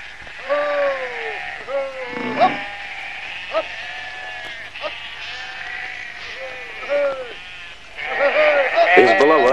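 Goat bleating repeatedly in short, wavering calls near by, several bleats spaced through the scene with a livelier burst at the end, from a spoiled pet goat in a 1986 Soviet family drama; a person talks in between.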